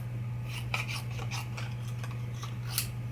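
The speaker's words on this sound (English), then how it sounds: "I'm going to take my scissors and I'm just going to cut it in half" Quiet, repeated rasping snips of scissors cutting through stiff card, heard close up over a steady low electrical hum.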